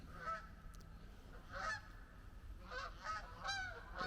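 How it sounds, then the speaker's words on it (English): Several geese honk in short bursts, some calls doubled, spread across a few seconds at moderate distance with no talking. "Geese."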